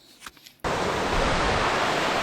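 Kurangani waterfall in the Theni hills, heard after a brief quiet moment with a faint voice, then a sudden, loud, continuous roar of rushing water that stays steady.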